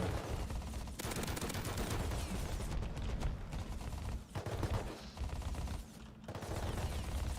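Heavy, sustained automatic gunfire in a video game battle, loud and close, with a few brief dips, mixed with mechanical rattling and clanking.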